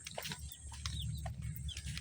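Chickens and chicks clucking outdoors in a village, with short, quiet clucks and peeps scattered over a low background hum.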